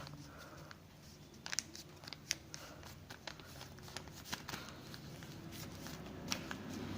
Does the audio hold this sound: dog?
no